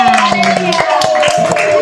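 A class of students in an elementary classroom claps hands in a quick, rhythmic pattern of sharp, close strikes, with voices chanting or calling along over the beat.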